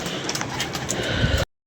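Pigeons take flight outdoors in a continuous, fairly loud wash of rustling noise with faint bird calls mixed in. The sound cuts off abruptly.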